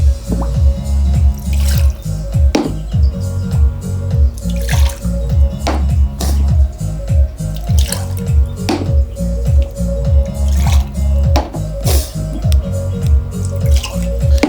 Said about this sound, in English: And if you just keep pouring, it just keeps flowing